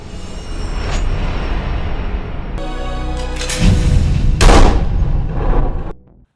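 A pistol gunshot from the film Bangkok Dangerous rings out amid a dense, loud film soundtrack, with sharp bursts and rumbling booms before everything cuts to silence.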